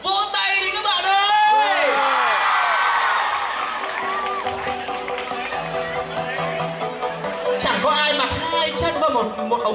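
Loud, continuous audience cheering and applause at a lively school game event where teachers compete in a race to pull on trousers, with whoops and shouting voices rising over the crowd throughout.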